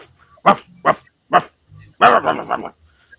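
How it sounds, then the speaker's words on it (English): Dogs barking during a tabletop horror roleplaying session: three sharp, separate barks close by, then a quick run of yaps, with short quiet gaps between them. "You hear the sound of dogs barking."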